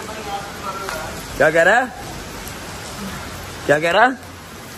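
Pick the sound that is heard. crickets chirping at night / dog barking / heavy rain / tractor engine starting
heavy rain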